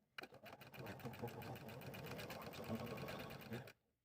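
A sewing machine runs steadily for about three and a half seconds, stitching an acorn piece onto a quilted pinwheel block, with fast regular needle clatter throughout and then stopping.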